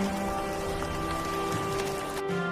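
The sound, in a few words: monsoon rain falling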